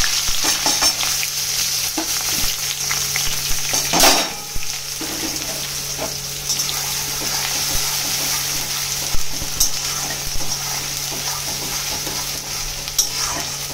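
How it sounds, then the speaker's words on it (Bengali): Thinly sliced onions frying in hot oil for a chicken maharani dish, a steady, dense sizzle that fills the whole stretch, close and continuous, broken by a few sharper crackles and one clatter. "তেল দিয়ে দিয়েছি, তেলটা গরম হয়ে গেছে। এবার আমি এখানে ঝিরি করে কেটে রাখা পেঁয়াজ দিয়ে দেব।"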